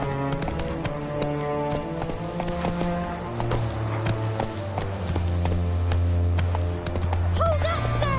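Horse hooves clip-clop at a steady gallop rhythm in The Witcher 3: Wild Hunt, loud and close over a continuous bed of game music, with a brief spoken command.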